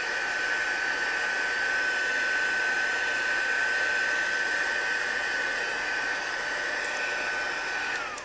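A hair dryer drying a mixed media tag for a junk journal cover blows in a steady, loud, even whoosh with a faint whine, running unbroken from start to finish.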